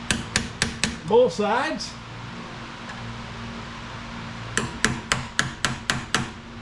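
A hammer strikes a pry bar striker during center support bearing replacement on a 1968 C10, a quick run of sharp metallic hits with a brief spoken comment, a pause, then a second burst of blows.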